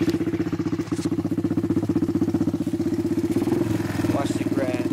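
A Honda 250EX ATV idles nearby with a steady, loud, rapid engine putter that holds for the whole stretch, with a voice briefly heard over it.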